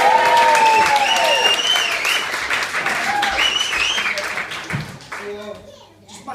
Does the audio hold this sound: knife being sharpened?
no